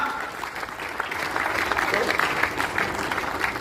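Applause from the crowd at a Hindi comedy poetry gathering, a hasya kavi sammelan, swelling from moderate to fuller clapping and holding steady for a few seconds.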